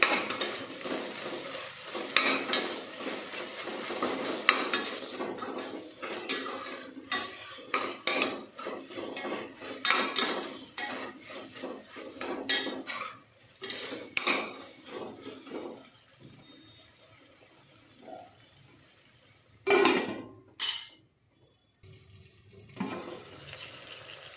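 Chicken being stirred with ginger paste in a pan for chicken palava, producing repeated scraping and sizzling strokes near and fairly loud, easing off toward the end with a few sharper clatters.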